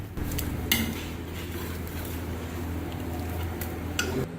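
Utensil scraping and clinking against a pot while ground dried coriander is mixed into chicken for a white handi, with steady close metallic stirring and a few sharper knocks over a constant low hum.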